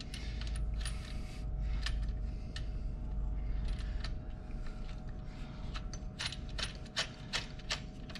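A bolt and nut are snugged down on Polaris front suspension, faint scattered metallic ratchet clicks and clinks in irregular bursts over a low background rumble.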